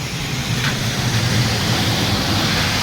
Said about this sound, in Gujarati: આ છે વરસાદ